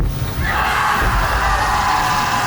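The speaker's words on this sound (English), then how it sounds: "It sounds like a whole crowd of like 100 people are all screaming from a distance" A large crowd screams and yells from a distance, a steady roaring wash of voices that holds at even loudness throughout.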